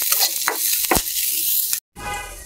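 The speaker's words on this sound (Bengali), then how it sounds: "লাউ পাতাটি হালকা একটু ভাজবো।" Bottle gourd leaves fry lightly in a pan, giving a continuous bright sizzle broken by several sharp stirring scrapes. A brief gap of silence falls near the end, then the sizzling resumes, close and steady, with no voices.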